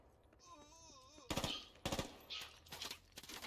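Automatic gunfire in the military shooter game Squad comes in loud, rapid bursts separated by short pauses, with faint wailing tones and distant voices before the shooting starts.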